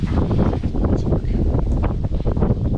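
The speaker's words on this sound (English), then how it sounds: "It's windy today" Strong wind buffets the microphone, a dense, continuous roar with gusty surges and no voices.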